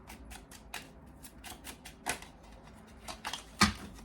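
Tarot cards being shuffled by hand give quick, quiet riffling clicks and soft slaps in a loose irregular rhythm, close but faint, with a couple of sharper snaps near the end.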